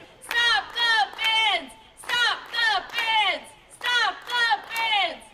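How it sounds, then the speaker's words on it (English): Protest crowd chanting at a courthouse-square rally against abortion laws in Bloomington, Indiana: a rhythmic group chant in repeated three-beat phrases, loud and close, with voices in unison and no other sound. "The crowd chanted and held signs advocating for the right to choose."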